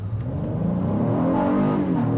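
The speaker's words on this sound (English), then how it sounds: "I forgot how much this engine likes to scream." The engine of a 2024 Honda Passport Trailsport revs hard during a full-throttle launch from a standstill. Its pitch climbs steadily through a continuous, loud, close-up roar.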